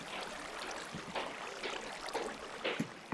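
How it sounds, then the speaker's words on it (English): A waterfall flowing in Minecraft, a faint steady rushing and trickling of water with soft splashy pulses throughout, no talking. "Freaking waterfall."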